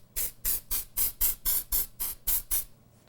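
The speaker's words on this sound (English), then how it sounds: "then I take my luster spray again" Ten short, even bursts of luster spray hiss in a steady rhythm, each a quick close puff with brief gaps between, no voices.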